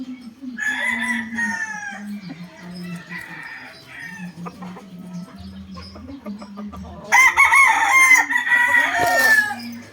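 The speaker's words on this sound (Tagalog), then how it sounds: "Napakapoging manok" A gamefowl rooster crows several times up close, loud and drawn out, with clucking between calls and a louder crow near the end.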